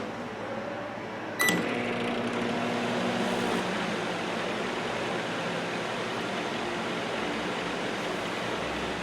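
Sharp Carousel microwave oven switching on and running empty, a steady broadband hum and whir that starts abruptly with a click and holds at an even level to the end, no voices.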